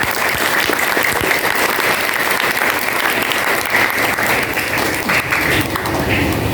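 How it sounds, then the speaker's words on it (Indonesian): Steady, dense applause from an audience honoring a teacher at an Isra Mi'raj and sungkeman celebration at an Islamic boarding school, loud and continuous throughout without pause. "Boleh tepuk tangan buat beliau."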